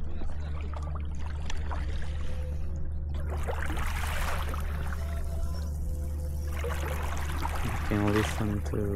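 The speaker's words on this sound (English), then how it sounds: "Listen to the water." Flowing water on a trip to Kangean island, a steady rushing wash that runs through the whole stretch with a low constant rumble underneath, plus a brief knocking near the end.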